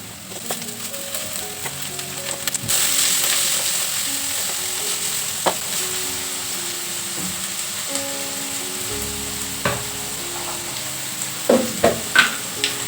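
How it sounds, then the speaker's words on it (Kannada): Capsicum, green chilli, onion, ginger and garlic sizzle steadily in hot oil, a continuous close frying hiss broken by scattered stirring clinks and a few louder scrapes near the end, with no talk. "ಅದು ಕ್ಯಾಪ್ಸಿಕಮ್ ಆಗಿ ಹಸಿರುಗಾಯಿ ಹಾಗೆ ಈರುಳ್ಳಿ ಶುಂಠಿ ಬೆಳ್ಳುಳ್ಳಿ ಇಷ್ಟನ್ನು ಹಾಕೊಳ್ತೀನಿ"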